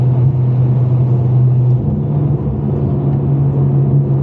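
A car engine idles with a deep, steady exhaust rumble, a low droning hum that holds throughout with a slight dip midway.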